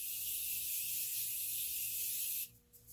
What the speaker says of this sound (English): I'm going to set my face with the Morphe setting spray